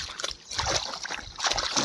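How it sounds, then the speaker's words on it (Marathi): Water splashes and sloshes in quick, irregular bursts close by as sandals are scrubbed and rinsed, with a faint voice in the background. "चप्पल धुणं चालू आहे"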